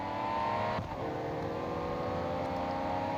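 A Ferrari 250 GTO's 3.0-litre V12 racing engine in Real Racing 3 drones steadily at high revs, dipping briefly before holding a smooth, buzzing tone.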